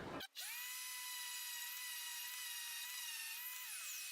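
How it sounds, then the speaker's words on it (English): A power sander whirs steadily on a painted wooden frame, its loud, continuous high-pitched drone holding nearly four seconds before the motor winds down at the end. "this is dry enough to give it a little hit with the sander"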